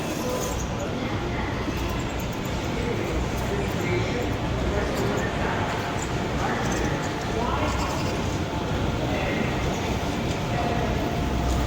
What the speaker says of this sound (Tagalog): O sa tren, metro na tinatawag.